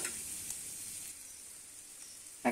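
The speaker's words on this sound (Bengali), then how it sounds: "তো বন্ধুরা আমরা পেঁয়াজটা নেড়ে নিচ্ছি চুলার উপরে সুন্দরভাবে।" Onions stirred and frying in a pan on the stove give a soft, continuous hiss and sizzle, fairly quiet and steady, with a sharp clink of the utensil right at the end.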